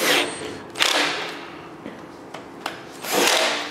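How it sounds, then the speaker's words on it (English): A small cordless screw gun with raised clutch setting drives oil pan bolts on a Chevrolet 454 big block engine: short bursts of close, whirring tool motor, with brief clicks and thuds between runs and no talking. "now I've turned the clutch setting on my little screw gun here up a few notches"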